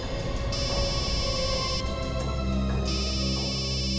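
An electronic phone ringtone plays a repeating melodic pattern over a low background hum, loud and continuous.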